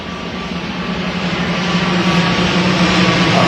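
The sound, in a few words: airplane flying overhead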